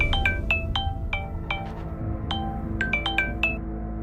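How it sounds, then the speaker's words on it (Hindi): A mobile phone ringtone plays as an audio drama sound effect, a bright, plinking melody of short chime-like notes in an irregular pattern over a low background hum, with no talking. "तभी उसके मोबाइल की रिंग बजने लगी।"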